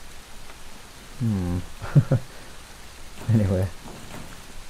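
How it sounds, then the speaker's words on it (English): Rain falls in the Arma 3 video game as a soft, steady hiss in the background, while someone talks over it in two short bursts. "And it's starting to rain."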